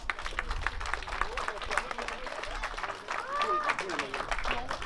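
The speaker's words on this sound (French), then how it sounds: "Je crois qu'on peut les applaudir une dernière fois." Spectators at a cycling grand prix in Savy-Berlette applaud the riders one last time, a continuous crowd clapping mixed with someone speaking over a loudspeaker.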